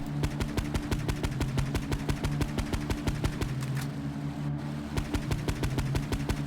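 Repeated gunfire in Grand Theft Auto III, a rapid, evenly spaced train of loud shots running almost the whole time with a brief lull, over steady engine-like game background.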